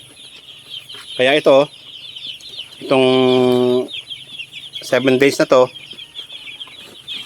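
Chickens on a small odor-free poultry farm in Lopez, Quezon cluck and squawk in short, nearby bursts, including one longer drawn-out call, while a person speaks over the birds.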